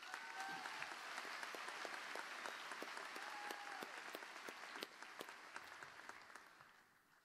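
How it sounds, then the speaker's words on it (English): Sustained applause fills a grand performance hall at a university commencement ceremony, dense steady clapping from a large crowd that gradually thins and fades out near the end. "Please join me in giving them all a round of applause."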